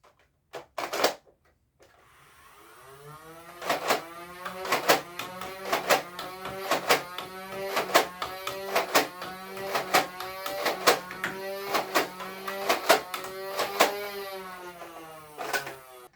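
A Nerf Elite 2.0 Double Punch blaster fires blue and orange foam darts in a long rapid series of sharp mechanical snaps over a whirring drone, close and loud.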